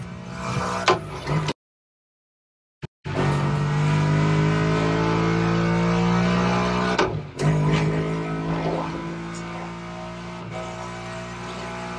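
A muscle car engine in The Crew Motorfest racing game roars loud and close, revving up in a long sustained climb after a short cut to silence, then dropping briefly and surging again.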